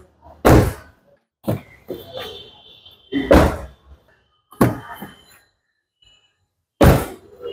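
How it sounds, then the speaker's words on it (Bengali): Car doors of a used Toyota Premio FL slam shut one after another, five heavy thuds spaced a second or two apart, with faint clicks and rustles of handling between them. "আপনাকে এখন 4টি দরজার সাউন্ড শোনাচ্ছি"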